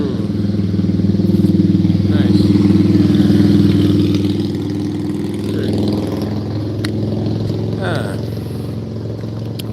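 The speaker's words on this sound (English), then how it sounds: "here comes a motorcycle" A motorcycle engine rumbles close by and passes on a street, a loud steady drone that rises and then fades a little, with a person talking over it.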